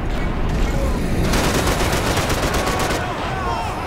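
Rapid gunfire from the video game Max Payne 3: dense, loud bursts of shots that run without a break and sometimes overlap.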